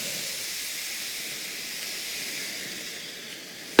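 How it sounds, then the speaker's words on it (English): Mixed vegetables sauté after vegetable broth is added to the pan. A steady, close hiss and sizzle of steam holds evenly throughout, ending with a sharp clank, with no talking. "I'll go ahead and add a little bit of vegetable broth so I can start sauteing these vegetables"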